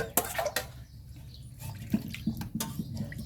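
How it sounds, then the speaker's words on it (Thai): Yanang leaf juice is poured into a pot of bamboo shoot curry, giving a close, faint liquid splashing and trickling with scattered drips. "น้ำยานาง เดี๋ยวใส่ลงไปก่อน น้ำยานางก่อน"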